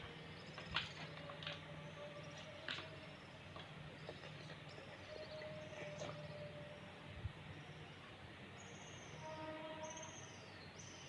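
A train rumbles steadily in the distance with scattered clicks and squeals, faint horn-like tones drifting over the background noise.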